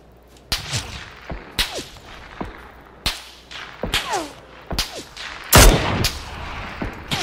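Gunfire in PUBG (PlayerUnknown's Battlegrounds): sharp single shots spaced irregularly over several seconds, one louder nearby blast near the end, with no talking.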